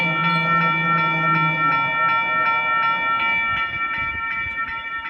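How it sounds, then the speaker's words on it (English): A train passes the Fruitvale Road level crossing in West Auckland, New Zealand, with a steady loud rumble under a bright, evenly repeating crossing-bell tone that persists throughout. "I can hear the train, I think."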